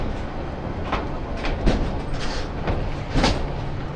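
Haor Express passenger train in Bangladesh rolling slowly, with steady rumble and repeated clickety-clack wheel thumps over rail joints, loud and close throughout.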